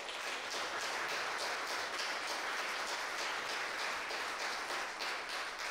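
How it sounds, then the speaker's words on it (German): Audience applause at a cannabis club event, a steady broadband wash of clapping sustained for nearly six seconds at a fairly even level, with no voices over it. "Zumindest dafür erstmal bitte einen kleinen Applaus."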